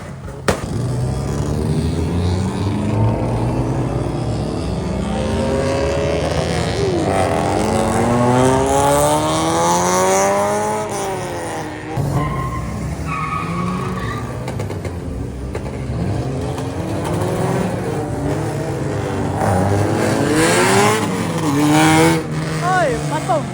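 An older Proton Wira saloon revs hard on a lively Saturday night in Kuantan, its engine note sweeping up and down repeatedly, loud and close, with voices talking over it throughout.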